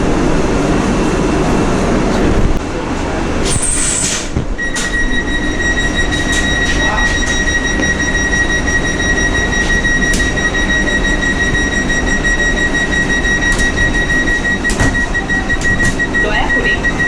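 Vande Bharat Express 22227 (New Jalpaiguri–Guwahati) pulling into Kamakhya station in monsoon season, heard from on board: a loud continuous rumble of rolling wheels with high brake and wheel squeals and sustained metallic tones.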